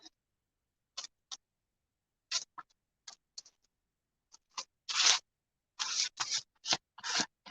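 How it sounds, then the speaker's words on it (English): Craft paint being scraped down across a journal page with a hand tool, heard as a series of short, dry scratching strokes, sparse at first and then coming in quicker, longer bursts, close and fairly quiet with no voices. "Since we're going to use craft paint, I'm going to use something to scrape this down with."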